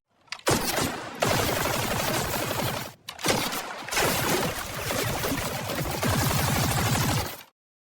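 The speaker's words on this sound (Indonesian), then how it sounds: "Markus menyuruh mereka semua untuk latihan menembak" Film gunfire during shooting practice: dense, continuous bursts of rapid automatic shots, loud and close, with one brief pause midway before the firing resumes.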